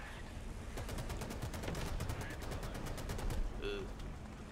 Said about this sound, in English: look at the volume of fire on that tank destroyer